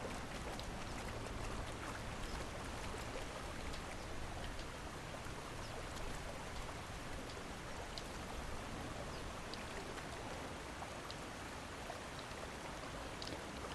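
Steady rushing water from a small waterfall in the video game Conan Exiles pours continuously at an even level, a dense splashing roar with no breaks and no voices.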